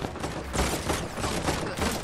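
Rapid, loud gunfire fills the whole moment in a video game shootout, dense overlapping shots and bursts coming close together.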